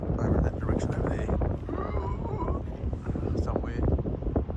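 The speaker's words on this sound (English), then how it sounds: "Sorry, it's a bit windy." Wind gusts across an open landscape near a remote roadhouse, a steady low rumble buffeting the microphone throughout, with people talking over it.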